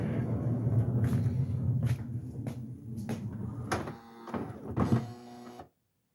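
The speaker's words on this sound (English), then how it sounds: "if you heard all that buzzing at the end while I was trying to figure out where to place the door" A minivan's power sliding door motor gives a low hum and rumble for several seconds, punctuated by clunks and knocks, then stops abruptly.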